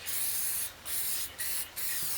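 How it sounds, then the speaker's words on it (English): Three short hissing bursts from an aerosol spray can applying a glossy finish coat to a wooden lamp, separated by brief pauses, close by against a quiet steady room tone. "So I'll just give it a quick spray"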